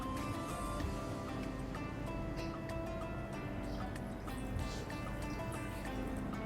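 Water trickles steadily into a pot of sauce in a home kitchen, a soft continuous pour with faint clinks and no one speaking.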